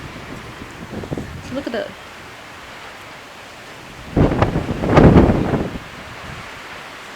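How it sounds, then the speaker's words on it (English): Strong wind gusting across an outdoor vegetable garden, rumbling and buffeting in two bursts, the second louder and longer, close to the microphone, with a person briefly speaking between them. "That wind is strong."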